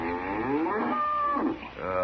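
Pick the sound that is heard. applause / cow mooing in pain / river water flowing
cow mooing in pain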